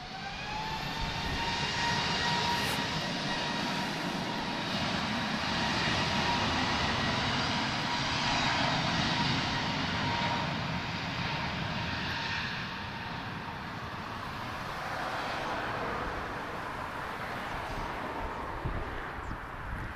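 Aircraft engines roar steadily at Lisbon Airport, a sustained jet rumble with a whining tone, moderately loud and continuous throughout with no voices.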